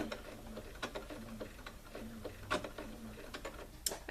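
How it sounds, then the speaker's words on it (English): A sewing machine stitching a sweatshirt gives a quiet, rhythmic mechanical ticking and clicking, with the stitches clattering at a slow, even pace and no talking. "walking my machine the first stitch and then just going for it"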